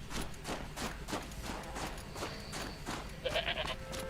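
A goat bleats several times in the video game Horizon, mid-level cries with a rhythmic, wavering quality over constant game ambience, followed by a short higher tonal chime near the end.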